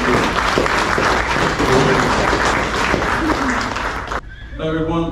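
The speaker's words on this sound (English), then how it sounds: "So give Molly a round of applause." Applause from the audience at a women supporters' club meeting fills the room as steady, dense clapping for several seconds, then cuts off abruptly into a voice speaking.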